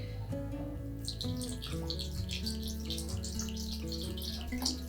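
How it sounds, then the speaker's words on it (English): Water is poured into a jar, a continuous splashing trickle that grows fuller partway through, heard over a soft background of music. "So we're going to pour the water in."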